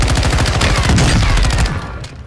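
Fast bursts of automatic gunfire from a gun in Call of Duty Warzone rattle off in a rapid, loud string close up, then cut off and trail away at the end.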